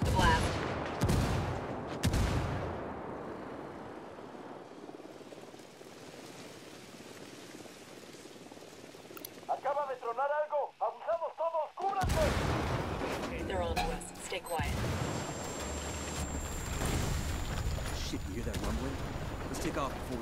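Indirect artillery strike in the Ghost Recon Wildlands video game, heard as a burst of loud explosive blasts and crackling debris after a quieter stretch, with gunfire-like bursts early on and voices talking over parts of it.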